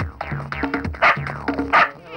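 A dog barks and yips repeatedly in quick, uneven bursts, close and fairly loud, with some whimpering tones between the barks and no speech.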